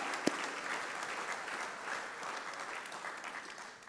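Audience applause at a Georgia Tennis Hall of Fame induction ceremony, a steady dense wash of clapping from a seated crowd that holds evenly throughout and slowly tapers near the end.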